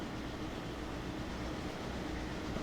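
A freight train rolls on in the Railroader video game with a steady, dense rumble and a broad rushing hiss, continuous and unchanging, with no voices over it.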